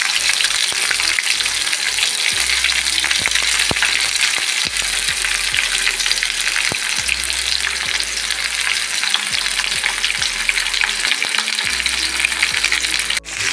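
Steady loud sizzling of onion sautéing in a hot pan, with occasional clinks and scrapes of stirring throughout; no voices.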